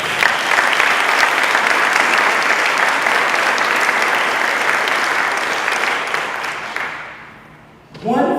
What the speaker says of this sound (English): give all our Trailblazers one more round of applause.